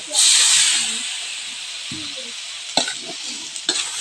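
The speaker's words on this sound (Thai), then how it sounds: "เราจะเอาปลาลงไปผัดเลย" Catfish stir-fried in a pan with fresh tamarind, giving a loud burst of sizzling as the fish hits the hot oil, easing into a steady hiss broken by a few sharp scraping knocks of the spatula.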